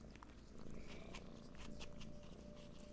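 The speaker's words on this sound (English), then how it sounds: "right now I'm getting cleaned by the cat" A cat purrs close by while grooming a person, a soft steady rumbling purr with faint licking ticks.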